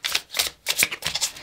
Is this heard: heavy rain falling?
no